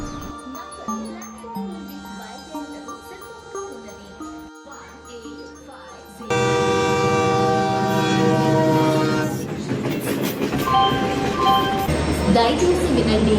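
At a railway station, the Garib Rath Superfast Express bound from Secunderabad to Visakhapatnam via Warangal and Vijayawada sounds tonal horn-like notes, then a loud, sustained roar of the train with a blaring horn for the final seconds, while a voice speaks.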